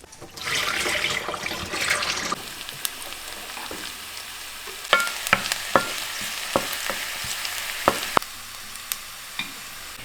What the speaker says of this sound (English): Chop some garlic and add it to the olive oil.